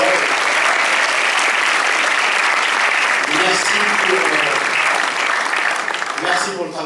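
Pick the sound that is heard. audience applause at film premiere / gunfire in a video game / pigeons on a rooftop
audience applause at film premiere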